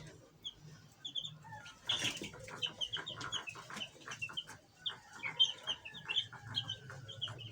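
Ten-day-old chicks clucking and peeping in a coop after being moved to a larger space, a busy chorus of short chirps and calls with a burst of wing flapping early on and no speech.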